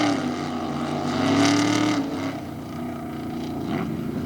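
Ford trucks race side by side in a tough truck competition at Indy, engines roaring and revving with a rising, then falling pitch, loud and close, with crowd and track noise mixed in.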